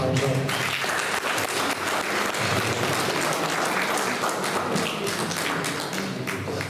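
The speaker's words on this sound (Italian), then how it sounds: "Un applauso." An Italian audience breaks into steady applause, a full, continuous patter of many hands clapping for several seconds with low murmuring underneath.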